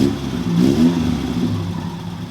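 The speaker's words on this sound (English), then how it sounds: "Oh, give us a rev, bud." Engine of an MK2 VW Polo fitted with a new exhaust, revving up loudly close by in one sustained rise and fall over about two seconds, with no voices.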